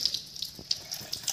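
Tap water running in a thin, slow stream, a close steady trickle with soft splashes and small bright spatters throughout.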